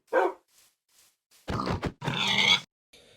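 A dog in the Minecraft video game gives a few short barks and grunts in separate bursts, close and fairly loud, with quiet gaps between them.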